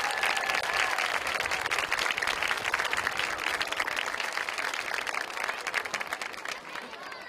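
An audience applauds a homecoming chorus at a school event, dense sustained clapping and crowd noise that stays loud and continuous before easing slightly at the end.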